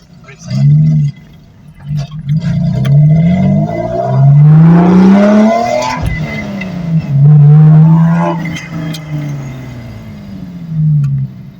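A Toyota Altezza with a swapped 2JZ engine and six-speed manual revs up and down several times, its pitch sweeping high then falling, loud and close.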